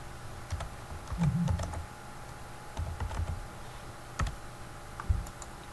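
Keyboard keys clatter in scattered bursts while someone types values into a SQL query on a computer. The taps come in short clusters separated by pauses, close and fairly clear, with a faint background hum and no speech.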